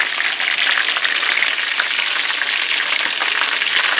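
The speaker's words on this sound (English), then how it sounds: "Still frying up the chicken." Chicken frying in a pan for a lemon chicken dish, a steady, dense sizzle and crackle of hot oil that holds close and loud throughout with no talking.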